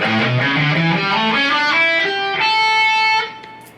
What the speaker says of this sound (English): A dominant pentatonic, which if you're not familiar with it, sounds kind of like this